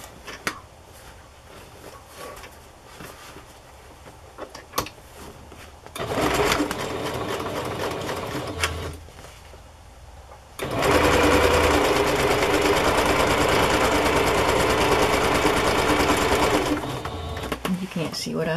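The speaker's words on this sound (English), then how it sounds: "Sew this side." Sewing machine stitching a collaged fabric journal cover in two loud, steady whirring runs, a short one and then a longer one, with brief quiet handling and talk in the gaps.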